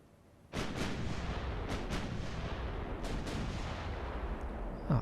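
Warship guns open fire in the naval game Ultimate Admiral: Dreadnoughts, a sudden heavy boom followed by rolling, rumbling salvos with a few sharper reports, sustained and loud to the end.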